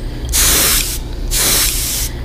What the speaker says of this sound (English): I usually pull this from the bottom and spray towards the top of the lure.